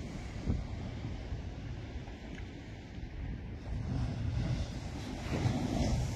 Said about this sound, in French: Regardez-moi ça, les rouleaux.